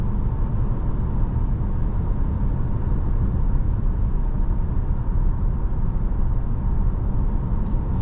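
Steady, low cabin road noise inside a 2023 Toyota Crown hybrid on large wheels cruising at 55 mph, an even, subdued rumble and hum with no talking.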